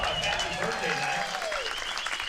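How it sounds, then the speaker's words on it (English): Crowd applause at a baseball game between the Fighting Fish and the Redwing Aces, steady clapping under a public-address announcer's voice that talks throughout. "Give her a round of applause."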